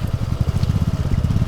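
A motorcycle engine runs steadily with a low, rapid pulsing throb, close and continuous, as the bike moves slowly along a winding road with many turns.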